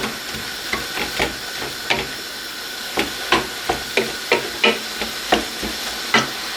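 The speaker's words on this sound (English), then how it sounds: "So stir that rice." Rice being stirred in a pan with a utensil, giving a run of sharp scraping clacks at an irregular rhythm, close and fairly loud, with a faint hiss underneath and no talking.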